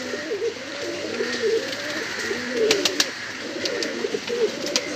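Rampuri and Saharanpuri pigeons coo in low, repeated rolling phrases, close by, with a few faint chirps and clicks in the background.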